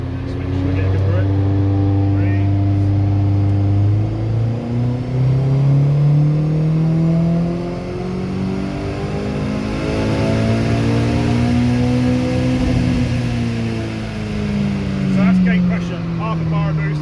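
Astra H VXR with an EFR turbo conversion revs hard on a dyno, engine pitch rising, falling and climbing again in long sweeps, loud and close, with voices faintly underneath.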